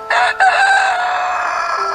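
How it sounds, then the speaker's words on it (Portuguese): A loud, close rooster crow rings out, a long drawn call with a brief break near the start, filling the whole moment. "Os galos cantavam,"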